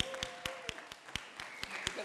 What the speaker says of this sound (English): I want you to start clapping because you're Wayne State alum.